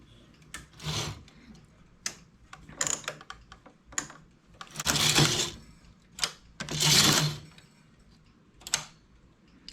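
A knitting machine runs in repeated passes, its carriage making clattering, ticking mechanical strokes that swell and fade in bursts with short pauses between, close and fairly clear with no talking.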